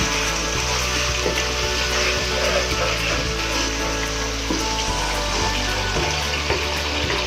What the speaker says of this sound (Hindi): मसाले में हल्की हल्की यखनी शामिल करके भूनते जाएं।